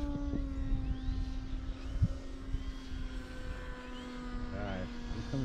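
An E-Flite Timbers RC plane on snow floats drones overhead with a steady whining propeller tone, moderately distant, under wind noise and a voice.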